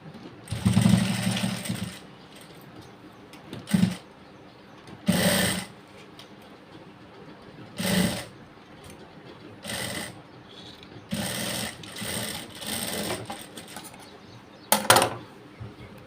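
A sewing machine stitches blouse fabric in repeated bursts of fast mechanical whirring, each a second or two long with short pauses between, close up.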